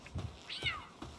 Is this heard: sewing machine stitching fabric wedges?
no